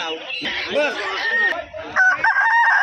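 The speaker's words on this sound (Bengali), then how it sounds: "এই দেখো এটা লড়াইয়ের মুরগি" Fighting rooster at a busy village livestock market, clucking and crowing loudly and close, with other fowl around and a murmur of voices beneath.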